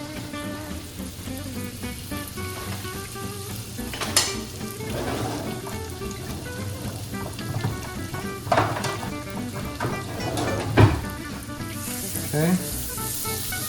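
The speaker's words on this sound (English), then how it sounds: "Put your 3 tablespoons of butter in." Three tablespoons of butter melting in a pan over a gas range, a continuous moderate sizzle and crackle with a few sharper utensil knocks, and a voice speaking briefly.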